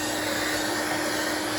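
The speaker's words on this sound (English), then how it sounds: "it's just a matter of getting the Henry Hoover out with a brush and just trying to vacuum up all this dust inside here" A Henry Hoover vacuum cleaner with a brush attachment sucks dust from inside a PlayStation 3, a steady, continuous whooshing roar with a faint tonal hum and no break.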